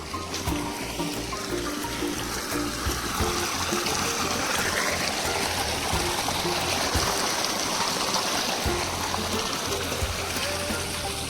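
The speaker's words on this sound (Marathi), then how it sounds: "पक्षी पाटात पाणी पोचले का पाहूया" Water flows steadily into a field irrigation channel on a wheat farm. It gives a continuous close rushing trickle at moderate level, with no one speaking.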